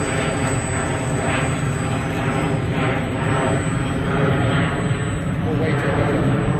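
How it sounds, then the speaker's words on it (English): A jet airliner departing Orlando roars steadily overhead, a loud, continuous low rumble that holds through the whole stretch, with indistinct voices faintly underneath, heard from a park. "I guess they're departing to the north in Orlando today, so all the planes are flying over."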